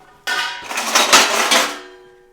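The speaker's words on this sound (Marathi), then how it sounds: "आपल्याला हा थोडासा मेता हलवून घ्यायचा आहे" Fenugreek seeds are stirred in a kadhai over low gas, giving one close, bright scraping rattle of seeds and utensil against the metal pan, lasting about two seconds.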